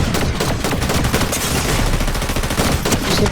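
Sustained assault rifle fire in a battle royale shooter, a loud, dense burst of rapid shots and impacts running continuously, close and without talk.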